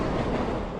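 A Burlington Northern freight train rolls past on a busy Bay Area rail line, a steady, loud broadband rumble and rattle filling the whole moment without a break.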